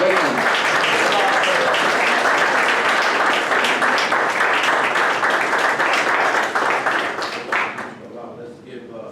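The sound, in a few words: round of applause for a speaker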